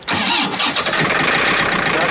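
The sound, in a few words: engine cranking and starting without preheating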